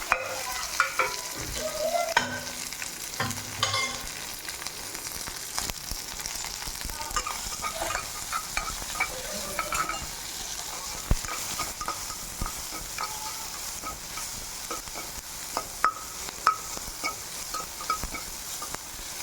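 An onion, mustard seed, dried chili and curry leaf tempering fries for idli sambar, giving a continuous close sizzle with frequent crackles and pops and the scrape and clink of a spoon stirring the pan, without talk.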